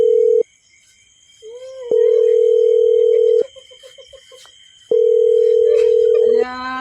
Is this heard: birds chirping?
no